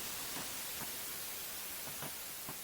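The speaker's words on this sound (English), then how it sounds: "which is a noise swells down sweep" A noise-swell down sweep from a sample pack, a steady wash of broadband hiss with faint repeated swishing bursts, heard alone at low level for a few seconds.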